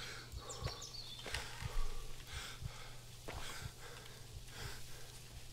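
A character in the horror game Maid of Sker pants in quick rhythmic breaths over soft repeated footsteps, faint and steady without speech.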